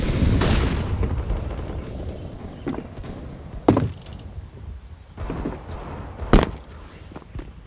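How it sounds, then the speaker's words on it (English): A grenade blast in the video game CS:GO on the Inferno map: several deep, booming bursts over a low rumble, separated by quieter stretches with faint footsteps. "Throwing a grenade."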